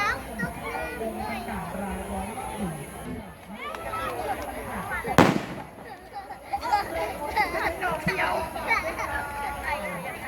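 Fireworks pop and crackle amid a lively crowd at the 2020 illuminated boat festival in Pla Pak, Nakhon Phanom, Thailand, with one sharp loud bang standing out over nearby chatter and children's voices.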